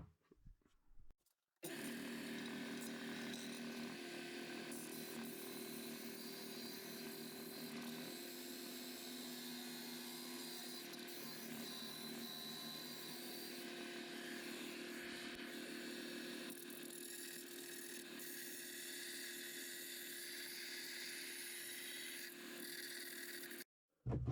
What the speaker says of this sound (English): Now I'll try finish it and fix it up with a belt sander, and hopefully that will give me a nice blank.